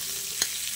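Potatoes and onions frying together in a pan for a cabbage dish, a steady soft sizzle with one brief stir or clatter partway through, close and without talk.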